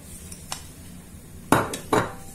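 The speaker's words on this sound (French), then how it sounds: "On va continuer de mélanger comme ça" Roasted hazelnuts and sugar stirred in a frying pan for homemade praline, giving a faint scrape and then two louder scraping, rattling strokes close by.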